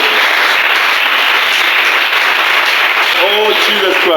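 A church congregation claps and cheers loudly in a dense, continuous roar that fills the room, while a preacher's voice cuts through near the end.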